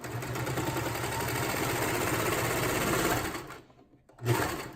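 A sewing machine runs steadily, stitching the side seam of a bralette bikini top. It whirs close and continuously for about three seconds, then stops, and one short burst of stitching follows.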